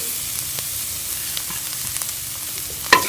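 Onions, green chillies and spices fry in a pan for a samosa filling, making a continuous close sizzle with soft stirring scrapes and a sharper clink of the spoon near the end.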